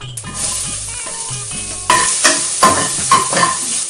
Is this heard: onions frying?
yes